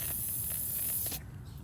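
A car is sprayed from an aerosol can, giving a close, continuous hiss with slight pulses that cuts off abruptly after about a second, leaving near silence.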